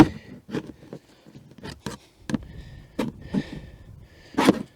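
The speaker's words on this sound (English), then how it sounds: "Fighting a bunch of metal clips along the way." Intermittent sharp snaps and scraping as plastic trim on a 2018 Audi Q7 is pried away from metal clips, irregular bursts with quiet gaps between, close up.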